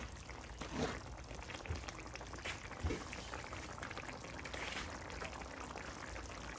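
Cooking oil poured into a small pan makes a faint, continuous liquid trickle with a few soft drips, heard close and without talk.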